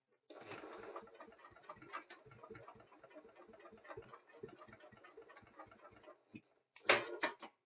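A sewing machine stitching a bag strap at stitch length four, a steady fast rhythmic ticking clatter that runs for several seconds, pauses briefly, then ends in a louder short burst.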